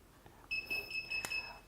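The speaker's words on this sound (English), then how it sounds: "So when I trigger the door sensor, the alarm panel will make chime sound." An X9 GSM alarm panel sounds a short electronic chime as a door sensor is triggered: a clear, steady two-tone beep lasting about a second, faint and close, with a small click near the end.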